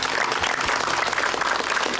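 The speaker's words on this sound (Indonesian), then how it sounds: "Boleh kasih tepuk tangan dulu dong?" A studio audience on a television program gives a short round of applause, a broad, even hiss of many clapping hands that holds steady without a break.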